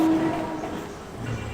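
A crowded Mumbai local train rumbles loudly and steadily, with a brief horn-like tone early and a constant roar of moving carriages, no talk.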